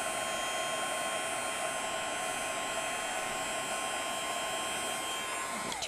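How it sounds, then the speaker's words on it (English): A Marvy heat tool blows steadily to melt embossing powder on a delicate stamped image, making a continuous close whooshing fan hum with a faint high whine and no pauses or talking. "I'm using the Marvy tool. And once it turns shiny, I'm just going to pull away from it"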